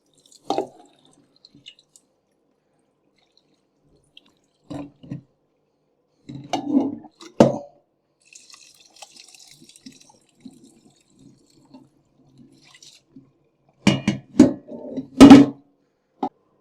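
Whey drains from cheese curds sitting in a cheesecloth-lined colander, giving scattered close drips and small splashes with long quiet gaps between them and a brief cluster of louder drops near the end.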